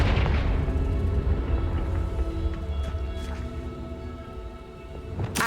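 A Confringo blasting spell explodes in the Hogwarts Legacy video game, a loud, rumbling boom that hits at once and slowly fades over several seconds, with a few faint crackles and a fresh burst at the end.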